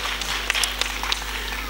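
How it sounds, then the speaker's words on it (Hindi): Brief burst of audience clapping at a Hindi poetry recital in Pantnagar, a soft crowd patter with a steady electrical hum underneath. "तालियां हो जाए एक बार।"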